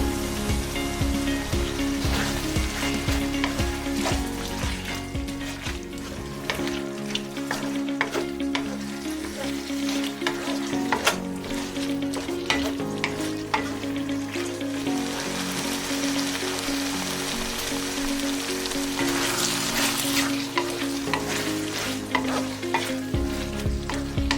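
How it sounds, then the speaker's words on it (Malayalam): Squid roast sizzles and fries in a pan after vinegar goes in, with a spoon scraping and stirring through it. Loud, dense crackling carries on without a break, and no one speaks. "ഇനി ഇതിലേക്കായി നമ്മുടെ അവസാനത്തെ ചേരുവയായ വിനെഗർ ചേർത്തിളക്കുക."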